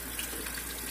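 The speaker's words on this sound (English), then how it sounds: "I'm going to turn that water off so you can hear me better." A kitchen tap runs at full flow into a sink while greens are washed, a steady loud rush of water close by with no talking.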